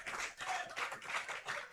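Restless baseball crowd at a Guelph Royals vs London Majors game clapping in steady, rhythmic waves, the claps moderately loud and continuous with no talk over them.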